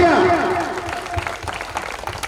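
Brief applause from a crowd at a craft fair after a dance academy performance, clapping rising under the tail of a voice and fading as scattered claps continue.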